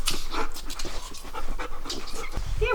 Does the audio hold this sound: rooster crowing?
no